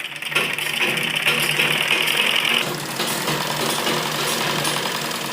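A sewing machine stitches silky fabric for palazzo trousers with a continuous, loud, close whirring hum that shifts slightly in pitch midway and runs without pause or talking.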